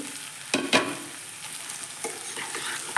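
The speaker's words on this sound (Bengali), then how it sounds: "এবার আগে থেকে কেটে রাখা পটল আর আলুগুলো এর মধ্যে" Chopped pointed gourd and potatoes hit a hot pan with garlic paste and sizzle, with a couple of sharp stirring scrapes early and a steady frying hiss after.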